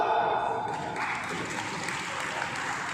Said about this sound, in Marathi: किती संकटात टाळ्या वाजवतात ते बघा